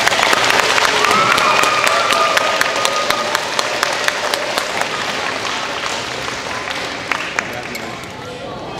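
Parents and students at a fifth-grade D.A.R.E. graduation ceremony clap together in a long, steady round of applause that slowly fades toward the end, with a few louder claps standing out and some faint voices underneath.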